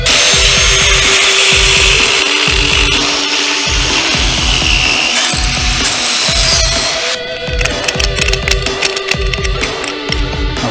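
An abrasive Harbor Freight cutoff wheel grinds through metal on a 1961 GMC C10 frame during a C-notch job. The whine is loud and continuous, pulsing in repeated strokes before easing lighter and choppier near the end.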